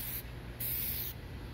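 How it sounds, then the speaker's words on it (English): Headlight restoration spray hisses from a can in three steady, even passes with brief pauses between them, close and fairly loud with no voices. "Just spray evenly like that"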